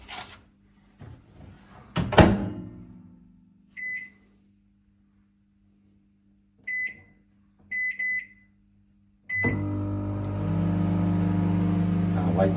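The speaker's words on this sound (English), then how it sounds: "let's whack it in the microwave and give it 8 minutes" A microwave oven heats curry sausages: a few short beeps and door clicks come first, then a steady low mechanical hum with a fan whir starts around the tenth second and runs on loudly to the end.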